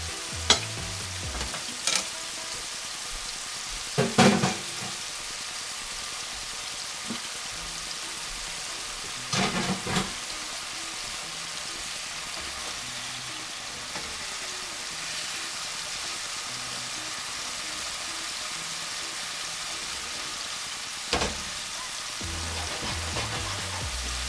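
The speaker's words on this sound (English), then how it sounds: "once they're seared, add that pat of butter in there and just drench them" Red Lechwe backstrap steaks sear in oil and butter in a pan with a steady, soft sizzle, broken by a few louder clattering stirs or pan movements spaced across the stretch.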